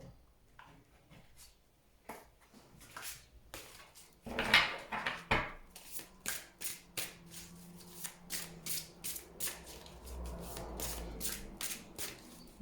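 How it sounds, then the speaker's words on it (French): Tarot cards being shuffled and drawn, with soft close rubbing, sliding and tapping that grows into a busier run of quiet card flicks. "je vais quand même tirer une carte"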